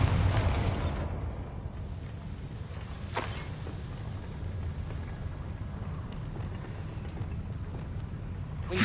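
A Bombarda spell explodes in the Hogwarts Legacy game, a loud burst at the start with a sharp crack a few seconds later, followed by a sustained rumbling, crackling roar.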